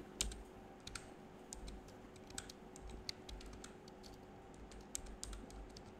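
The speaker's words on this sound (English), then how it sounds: "Let's type it in." Steady typing on a computer keyboard, with rapid light key clicks in an uneven rhythm, close but faint, and no voices.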